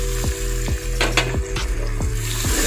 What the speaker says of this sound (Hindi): इसको अच्छे तरीके से भून लेना है।